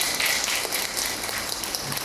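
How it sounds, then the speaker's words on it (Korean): An audience at a Korean lecture gives a round of applause, with thick, continuous clapping close and fairly loud from start to finish. "좋은 분들 박수 한번 주세요."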